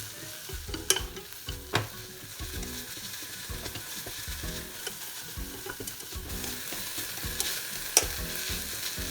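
Tsukudani reducing in a pan over heat, a steady soft sizzle and bubbling with a few sharp clicks and scrapes of stirring near the start and again later, no talk.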